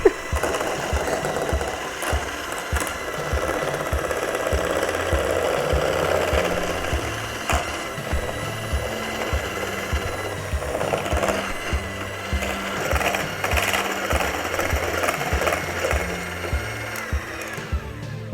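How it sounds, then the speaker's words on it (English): An electric hand mixer whips a batch of homemade body butter, its motor droning steadily and close with fluctuating pitch and a rapid rattling whir as the beaters work the mixture, continuing without talk. "you're going to whip it for about 10 minutes or more till it gets super creamy, like a whipped cream, and like fluffy"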